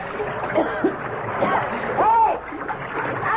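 A man thrown overboard into the Nile in a radio drama, a sloshing splash of water with voices talking over it.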